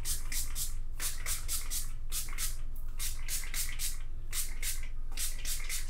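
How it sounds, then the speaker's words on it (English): A spray bottle of heat protectant mists onto hair in a rapid series of short hissing pumps, with brief pauses between bursts, close and clear over a steady low hum. "let's spray the heat screen now"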